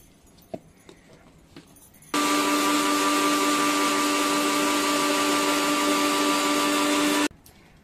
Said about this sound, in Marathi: आणि आता आपण हे सर्व वाटून घेऊया।